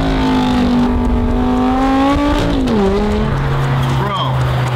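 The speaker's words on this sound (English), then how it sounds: "Launch it! Hey now, NA two-step. Drop it! Drop the clutch!" A McLaren race car with a naturally aspirated engine bangs on a two-step launch limiter, its steady droning revs bending as the clutch drops and tires squeal, loud and close, with people shouting over it.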